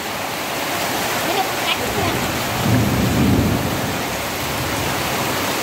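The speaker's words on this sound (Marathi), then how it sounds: "पाऊस बघा कसो लागता. तो धो धो सगळा भरला." Heavy monsoon downpour in the Konkan region roars steadily and loudly throughout, with a deep rumble of thunder swelling in the middle.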